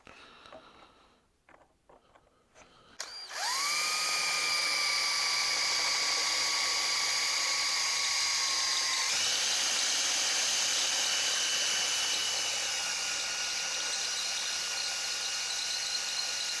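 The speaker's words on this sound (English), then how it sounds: "I'll drill the next one." A power drill bores into a workpiece for a bandsaw table mount, a loud, sustained high-pitched whine that starts after a few quiet clicks and handling sounds and shifts pitch partway through.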